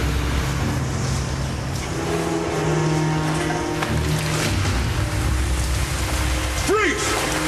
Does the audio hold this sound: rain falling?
yes